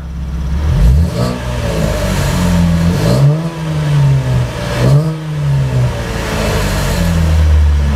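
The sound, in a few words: Chevrolet Camaro 2015 3.6L V6 engine revving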